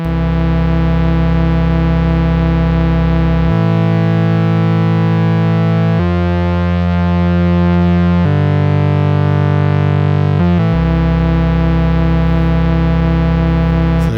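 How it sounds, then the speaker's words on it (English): Two sustained Eurorack synthesizer oscillators drone together in a steady harmony, buzzy and distorted, shifting pitch several times before returning to the opening chord. "Let's listen to the two oscillators together."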